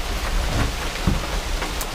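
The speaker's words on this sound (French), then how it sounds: "Faut remarquer qu'il pleut toujours." Steady rain falling outdoors during a mountain bike trail ride in Canada, a dense even hiss of drops with a few louder nearby splats, no voices.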